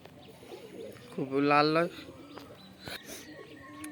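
A pigeon at a house gives one close, throaty coo with a rising, rolling tone, while a person talks nearby before and after.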